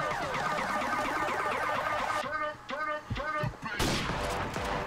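Gunfire in the video game Modern Warfare Remastered during a team deathmatch on the Overgrown map, a dense, loud stream of rapid shots and explosions that thins into scattered bursts and then returns in a heavy volley.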